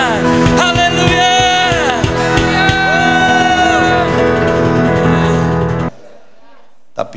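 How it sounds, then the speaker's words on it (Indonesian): A church congregation cheers and shouts praise to God, a dense, loud swell of many voices that holds steady for about six seconds and then cuts off abruptly into near silence. "Berikan sorak-sorai bagi Tuhan kita"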